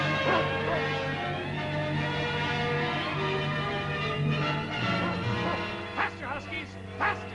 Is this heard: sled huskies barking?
yes